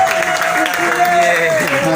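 An audience at a church gathering cheers and applauds loudly and steadily after testimonies, a dense wash of clapping with a voice sustaining a tone over it.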